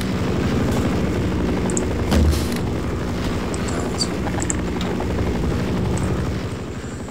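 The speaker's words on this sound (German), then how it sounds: "jetzt dreht der Heli zuerst wieder über mich drüber" A helicopter circles overhead in the video game Half-Life, a steady rotor drone close and loud, with a brief machine-gun-like burst partway through.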